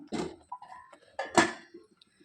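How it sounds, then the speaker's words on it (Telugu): A metal lid set on a pan of gongura cooking with salt, chili and turmeric gives a couple of close clanks and a short metallic rattle, with a brief faint clink at the end. "గోంగూర కూడా మూత పెట్టి కొద్దిసేపు మగ్గిద్దాము"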